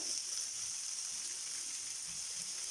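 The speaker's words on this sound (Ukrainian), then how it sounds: "Обсмажую цибулю," A steady, hissing sizzle of onion frying in oil in a hot pan on the stove, continuous and even throughout.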